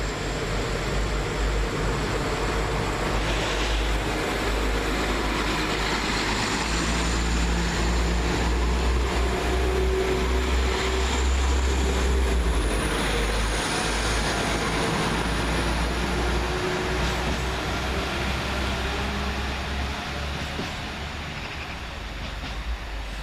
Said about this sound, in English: One 172-332 is the next to depart, working the 12:09 service from Stratford-upon-Avon to Stourbridge Junction.